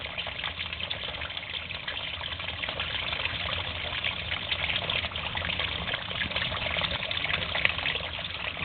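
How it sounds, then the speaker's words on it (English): A sump pump cycles as footing-drain water drains into the sump, giving a steady, dense watery rush and trickle that runs unbroken throughout, with no talk. "you can see that the pump is now cycling, it's draining the water."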